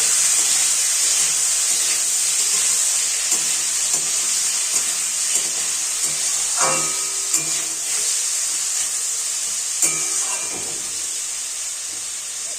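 Chopped tomato, green chili and ginger frying in a pan with whole cumin, giving a steady close hiss and sizzle throughout, with occasional soft scrapes and clinks of stirring.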